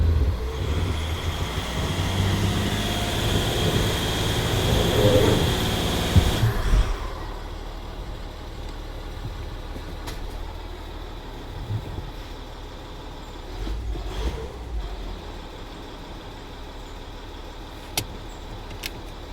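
Ford Territory TDCi turbo diesel engine revving hard under load after an in-tank fuel pump replacement: a loud, steady roar for about six seconds, then a sudden drop to a quiet low idle with faint background noise.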